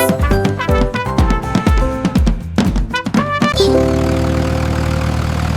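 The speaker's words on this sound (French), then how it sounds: "Le rugissement du petit tracteur était fort." A small tractor engine roars loudly and steadily, with clattering mechanical pulses before settling into a constant chugging drone.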